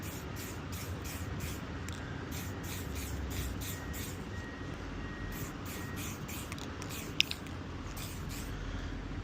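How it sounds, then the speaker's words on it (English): Repeated short hissing bursts from a spray can, one after another in an uneven rhythm, close by, with a brief click partway through. "I don't know if I have enough spray paint in here"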